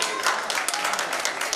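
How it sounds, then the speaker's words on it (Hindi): Applause from the audience at a poetry gathering of visually impaired poets, a short dense burst of clapping that is fairly quiet and somewhat distant, with faint voices mixed in. "मैं एक बार चाहूंगा कि आप सब एक बार जोरदार तालियां बजाकर मुझे अनुमति दें।"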